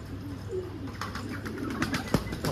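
Pigeons coo in a low, rolling murmur close by, overlapping soft calls with a few light rustles and wing shuffles in the background.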